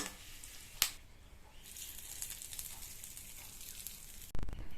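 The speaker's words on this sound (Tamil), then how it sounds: "இதை நல்லா வதக்கி விட்டுட்டு அந்த பச்சடியில் இந்த தாளிப்பை சேர்த்துடலாம்." A tempering of dried chili and asafoetida sizzles faintly in hot oil, a thin bright crackle with a sharp snap near the start and a louder burst of frying toward the end, close and quiet.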